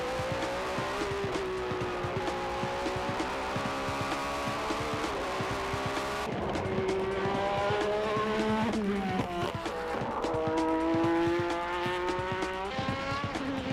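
A Skyline GT-R race car on a qualifying time attack lap revs hard through repeated gear changes, its engine note rising and dropping in steady sweeps, with a brief tire squeal mid-lap and continuous mechanical roar throughout.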